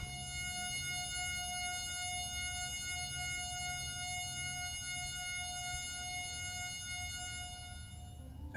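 A steady high pure tone of about 3600 Hz, pitched at an F sharp, holds continuously at even loudness from start to finish with no voice over it.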